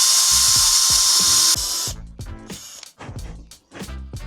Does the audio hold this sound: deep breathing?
no